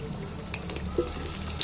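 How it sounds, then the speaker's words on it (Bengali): Cut potatoes frying in a little oil in a wok, giving a soft, steady sizzle with faint crackles and small pops throughout. "সর্বপ্রথম আমি আলুগুলো কাটা আলুগুলো ভেজে নিচ্ছি"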